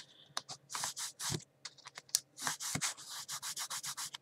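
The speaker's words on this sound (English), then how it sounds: "I'm going to burnish this here with my fingers just for now, in between each one" Fingers rub briskly over paper in a card and envelope mini album, burnishing it with a quick series of close, soft scratchy strokes, some irregular and then a steady rhythmic run.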